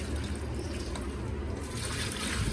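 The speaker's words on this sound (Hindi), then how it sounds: "इन पौधों में भी डाला पानी और इनमें भी डाला।" Water poured onto potted plants in a home gallery, a steady close trickle and splash running continuously with no pauses and no talk.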